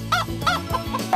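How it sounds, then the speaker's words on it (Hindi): Chicken clucking in short repeated bursts, several clucks close and fairly loud with no talking. "मुझे लगता है वो मुर्गी में बदल गई है।"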